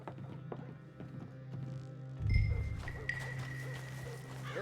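Horse hooves clip-clopping at a steady walking rhythm in the video game Red Dead Redemption 2, fairly quiet and close, with a low game ambience and a faint tonal hum underneath.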